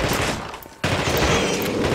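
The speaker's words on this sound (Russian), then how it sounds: "Ну, стрельба, конечно, такое." Gunfire in the video game The Thing: loud, rapid bursts of shots that break off briefly, then resume in a sustained volley.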